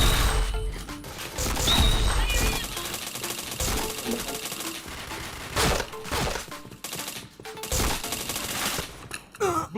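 Rapid gunfire from the online shooter Point Blank, with dense bursts of automatic shots and sharp single cracks scattered across the whole stretch, loud and close, mixed with other game effects.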